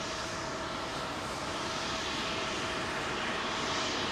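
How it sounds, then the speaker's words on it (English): A Turkish Airlines Boeing 777 jet landing at London Heathrow, its engines a steady, distant broadband roar that holds evenly throughout with no talk over it. "that's a very light Turkish 777 there"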